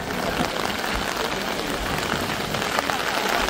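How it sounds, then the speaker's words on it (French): Heavy rain pours down steadily near Mount Fuji, Japan, a dense hiss of drops pattering on surfaces, loud and close with no break. "Il pleut trop, hein."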